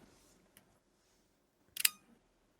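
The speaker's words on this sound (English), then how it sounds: "my quietest leaf shutter is the Contax T" A Contax T camera's leaf shutter fires with a quiet, crisp click, preceded by a faint tiny tick, in an otherwise near-silent room.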